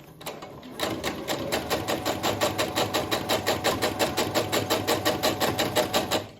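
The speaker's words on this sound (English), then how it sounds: "I'm going to sew on the right hand side using a 1/4 inch foot, and I'm going to stitch at stitch length 2" Sewing machine stitching fabric with a 1/4 inch presser foot at stitch length 2, making a fabric pumpkin table runner; a close, steady rhythmic whirr of rapid needle strokes that starts after a brief pause and runs continuously.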